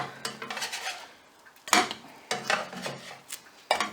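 Crumpets are flipped in a pan: a spatula scrapes and knocks against the metal in several short, close bursts with brief pauses between, and no talk.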